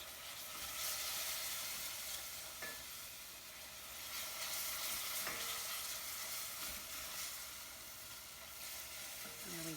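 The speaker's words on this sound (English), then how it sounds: "You're just gonna keep stirring and stirring and stirring to get those lumps and bumps out" Bechamel white sauce being stirred steadily in a pan for mac and cheese, a continuous close sizzling, scraping hiss that runs unbroken for the whole stretch with no one talking.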